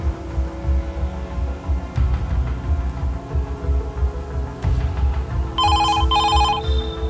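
A telephone rings in two short electronic bursts near the end, over a steady low hum and background rumble.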